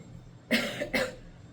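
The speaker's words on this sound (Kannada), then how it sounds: "ಅವ್ನು ಸಿಕ್ಕಾಪಟ್ಟೆ ಕೆಮ್ತಾ ಇದ್ದಾನೆ" A young boy with lung problems since birth gives two sharp, close coughs in quick succession, with quiet around them.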